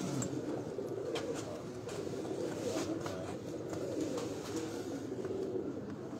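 Pigeons coo softly on a rooftop, low murmuring calls under a steady wash of background noise, with faint ticking sounds scattered through.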